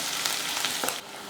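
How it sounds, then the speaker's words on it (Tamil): Shallots, green chilies and garlic sizzle in a pan in a short, bright burst of frying hiss, with a few soft stirring scrapes and no talking. "வெங்காயத்தை இது போல் நல்லா பச்சை வாடை போகிற வரைக்கும் வதக்கிட்டு"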